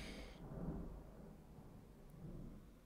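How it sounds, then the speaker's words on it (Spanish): Video game thunder rolls as a deep, distant rumble, with a brief crack at the start fading into a long low roar and faint rain-like hiss. "El pedazo de trueno."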